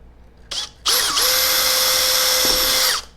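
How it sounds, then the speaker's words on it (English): A power drill with a small bit whirs briefly, stops, then runs steadily at high speed for about two seconds before winding down; close and loud, no talking. "let me replace with a small drill bit first"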